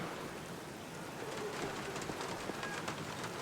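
Steady rain pours down in the 2003 video game Black Mirror, a dense, constant hiss with scattered drip-like ticks and a faint low rumble, heard alone with no voices.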